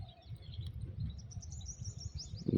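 Small birds, sparrows and pigeons, chirp and tweet in faint, scattered calls through the clip, with a low rumbling background underneath and a brief louder rustle at the very end.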